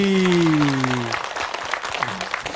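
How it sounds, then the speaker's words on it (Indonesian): An audience applauds at an Islamic religious talk show, a dense wash of clapping with sustained tones and voices fading out underneath it, then the clapping thins and continues more loosely. "Tepuk tangan lah."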